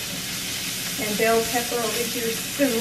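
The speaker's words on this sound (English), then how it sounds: "Got my onions and bell pepper over here sizzling." Steady frying sizzle of onions and bell pepper in a pan, with a person talking over it.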